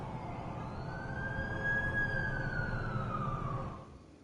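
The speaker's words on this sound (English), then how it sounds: "That's the ambulance I called." A video-game ambulance siren rises and falls in a single long wail over steady traffic rumble, moderately distant, then fades out near the end.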